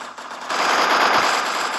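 Rapid automatic gunfire from a video game fills the whole stretch, a dense, loud burst that grows heavier after the first half second and runs on steadily with no talk over it.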